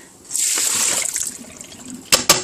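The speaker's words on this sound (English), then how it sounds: "Now I'm going to go over to the sink and pour them into the colander." Water and canned water chestnuts pour into a colander at a kitchen sink, a steady close splashing stream that tapers off, followed by two sharp clatters near the end.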